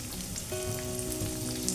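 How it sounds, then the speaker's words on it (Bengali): Chopped onion goes into hot oil in a pan, a soft steady sizzle with faint crackle, quiet and close, accompanied by a faint steady tone. "দিয়ে দিলাম কেটে রাখা পেঁয়াজটা।"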